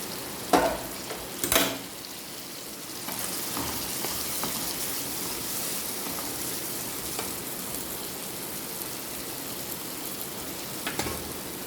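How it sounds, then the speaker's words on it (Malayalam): A couple of sharp splashes, then a loud, steady hiss as water hits a hot pan and keeps sizzling close by. "ഒരല്പം നമുക്ക് വെള്ളം കൂടെ ഒഴിക്കും."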